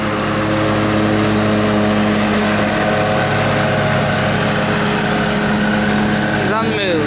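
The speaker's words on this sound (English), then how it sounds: "This is powered by a Kohler engine." A lawn mower powered by a Kohler engine runs steadily and loudly up close, its droning engine hum constant throughout, with a rising pitch sweep near the end and talk over it.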